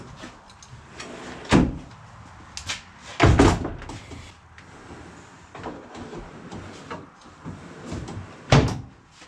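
A drawer sliding in and out of a custom-built ute toolbox, with several distinct knocks and thumps spaced across the clip and quieter rumbling slides between them, no talk.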